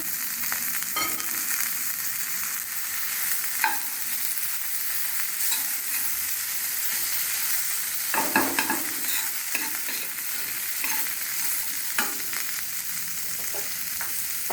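A spoon works through mirchi vada filling mixed with fresh green coriander, making a steady soft scraping and stirring over a light frying sizzle, with occasional clinks against the pan.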